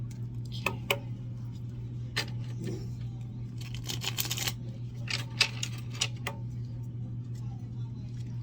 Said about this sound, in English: Shuffle the deck any way you want.